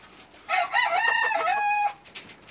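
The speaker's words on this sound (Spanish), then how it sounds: "otro gallo recién recortado del señor José Bojero." A freshly trimmed rooster lets out a single loud, close crow lasting about a second and a half, rising and then holding before it cuts off.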